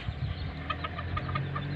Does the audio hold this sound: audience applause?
no